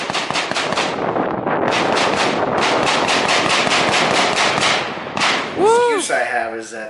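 Rapid bursts of Fourth of July fireworks in a finale, a dense continuous crackle of close, loud pops and bangs, followed by a few rising whistles near the end.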